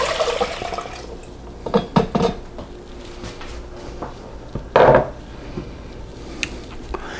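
Four cups of water splash and trickle into the inner pot of a Tiger rice cooker in a home kitchen, in short uneven pours with a louder gush near the end and no talking.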